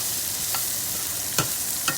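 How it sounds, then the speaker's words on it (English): Onion sautéing in a pan gives a soft, steady sizzle with a few brief scrapes of stirring. "After I'm going to saute the onion up to maybe"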